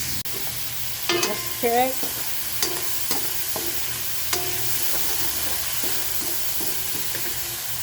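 Laing, taro leaves simmering in coconut milk, is stirred in a pot with soft, evenly spaced scraping strokes over a low bubbling hiss; a voice speaks briefly near the start.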